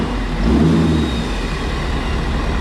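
A Ford F250 with a 6.7L diesel engine and a cold air intake revs up briefly, its loud low rumble swelling and then settling back to a steady drone.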